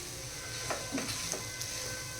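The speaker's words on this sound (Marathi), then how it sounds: "डाळ टाकल्यानंतर याच्यामध्ये आपल्याला छान मस्त या फोडणीमध्ये आपल्याला फ्राय करून घ्यायची" Ground lentils frying in a hot tempering of oil and asafoetida in a home kitchen; a soft, steady sizzle with a few brief scraping stirs, quiet and close, without talk.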